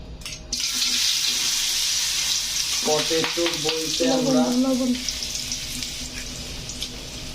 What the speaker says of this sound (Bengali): তেল গরম হয়ে যাওয়ার পরে আমি এটার ভিতরে পটেটো গুলো ছেড়ে দিব